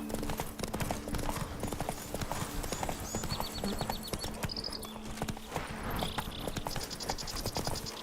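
Galloping horse hooves from The Witcher 3 beat a steady, continuous clip-clop rhythm for the whole stretch, close and prominent, with faint mechanical clicks and game ambience layered beneath.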